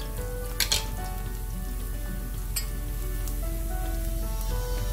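Garlic frying gently in hot oil for a Chettinad-style prawn masala, a steady close sizzle with faint crackles and a couple of brief sharper pops near the start.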